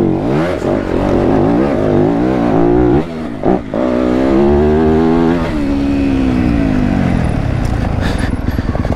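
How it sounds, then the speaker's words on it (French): A four-stroke engine on a rally training run revs loudly and continuously, its pitch climbing and falling through repeated accelerations, close and dominant for the whole stretch. "le bruit du 4 temps, c'est toujours aussi satisfaisant"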